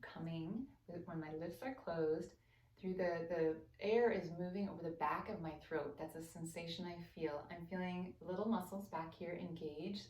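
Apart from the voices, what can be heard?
No everyday noise stands out behind the speech.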